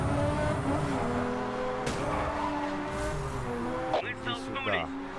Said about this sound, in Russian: Неправильно вошел в дрифт.